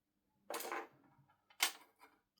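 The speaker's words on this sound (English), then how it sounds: "unclip the trim like that, take the trim off" Plastic trim unclipped from a PS5 controller gives two quick, close clicking snaps about a second apart, each with a small rattle after it, in a quiet room.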